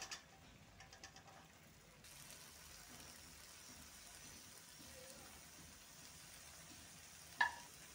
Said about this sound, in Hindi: अभी मैं ड्राई फिश मसाला का साथ अच्छा से मिक्स करेंगे।